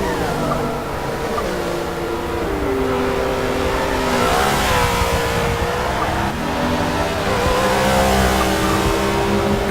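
Engines of BMW race cars snarl and rise in pitch as they accelerate and shift, sustained and fairly loud with sweeping tonal climbs, likely a racing broadcast with a commentator in faint background.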